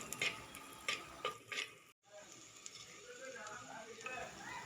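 Onion and coconut paste sautéed in a pan for misal rasa, with soft sizzling and a few sharp stirring scrapes, a brief cut near the middle and then quieter frying with faint background voices.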